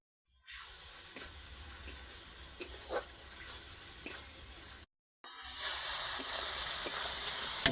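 Masala spices fry in oil in a pan for a rajma curry, a steady close sizzle with occasional sharp crackles and stirring scrapes, briefly cutting out before returning louder and brighter.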